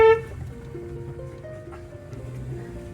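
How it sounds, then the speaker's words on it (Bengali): A single short car horn blast at the very start, followed by steady engine rumble and road noise from the car moving on a rough hill road near Darjeeling. "আবার হর্ন দাও"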